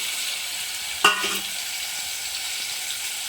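Tomatoes cook in oil in a pan, giving a steady, moderate sizzle with one brief clink of a utensil near the start.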